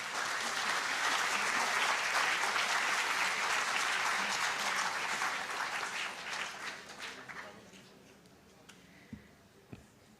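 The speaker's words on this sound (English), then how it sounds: "Can we please have a round of applause for her?" A crowd applauds steadily for several seconds at a national quiz competition grand finale, then the clapping thins out to a few scattered claps.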